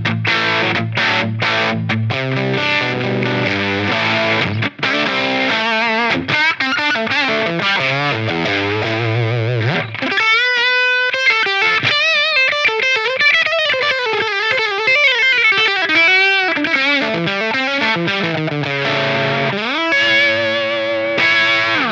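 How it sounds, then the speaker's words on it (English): Overdriven electric guitar on the neck pickup through a Line 6 Helix modelling a Mesa/Boogie Cali IV amp, played alone as a loud, continuous, saturated passage of chords and single-note lead lines with chorus-like shimmer and light reverb. "with those settings, I get this for the overdrive sound I was looking for."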